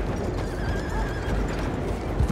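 A horse in the Red Dead Redemption 2 video game whinnies with a rising, wavering call over steady nearby hoofbeats, moderately loud with no voices.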